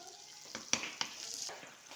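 Turnip and green chillies fry in masala, giving a faint, quiet sizzle broken by a few sharp scrapes of stirring.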